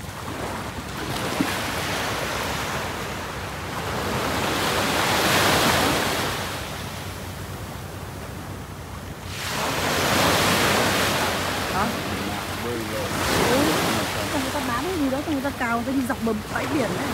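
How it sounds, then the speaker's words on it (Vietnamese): Ocean waves roll onto a beach in Phu Quoc, Vietnam, at sunset, surging in broad swells about every four seconds under steady wind noise, with faint talk and other activity mixed into the background. "đi dọc bờ bãi biển"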